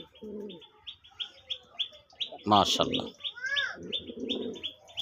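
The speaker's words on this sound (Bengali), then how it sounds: "দেখেন দেশি নরের ডাক দেখেন" A male deshi pigeon gives low cooing calls, one burst near the start and another near the end. Small birds chirp steadily in the background, and a person speaks briefly in the middle.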